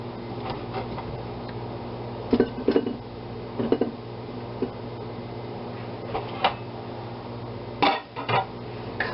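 Beets are set one by one into a slow cooker, giving scattered hard clunks and clinks against the pot with quiet gaps between them.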